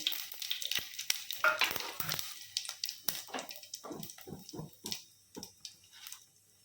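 Bay leaf and shahi jeera hit hot oil with an irregular burst of crackling and spitting, loud at first and then settling into scattered pops.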